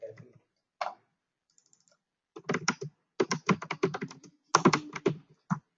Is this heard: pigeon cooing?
no